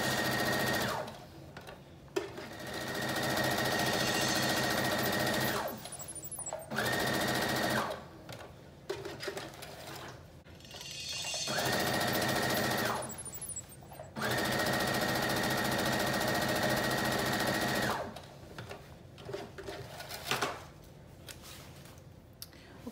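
A sewing machine straight-stitches a stay-stitch line along the edge of a flutter-top piece, running in several loud sustained bursts separated by short pauses.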